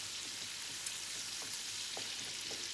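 Bacon sizzles steadily in a pan, a dense crackling hiss with a few soft clicks as it gets stirred, close and continuous with no voices.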